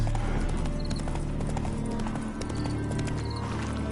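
Horse hooves clip-clop at a steady walking rhythm in The Witcher 3, over a continuous background of game sound.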